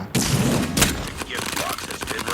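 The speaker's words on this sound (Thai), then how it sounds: "ยิงแต่เป้านิ่งก็แล้วกันนะ ถ้าถ้ายิงเป้าเคลื่อนไหวแล้วก็จะยิงนะครับ" Rapid gunfire from a carnival shooting-gallery video game, with shots hitting targets in a dense, loud burst of repeated cracks and a sharp boom near the start, mixed with music and game effects.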